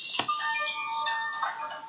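An incoming phone call ringing with a steady electronic ringtone of sustained melodic tones, heard at moderate level indoors, with a brief knock or click near the start.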